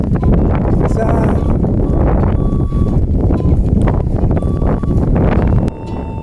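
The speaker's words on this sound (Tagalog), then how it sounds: "Lakas ng hangin." Heavy wind buffets the microphone in a constant low roar, with voices and background noise partly buried beneath it.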